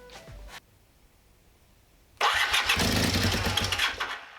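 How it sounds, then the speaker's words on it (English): A 1978 Honda CB400T motorcycle with freshly cleaned carburettors stays quiet after a brief noise, then fires up abruptly and runs loud and steady close by. "hopefully that'll do the trick and this bike will start right up"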